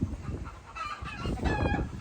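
Chickens cluck and murmur nearby in short, rising calls over a rustling, noisy outdoor background, with no talking.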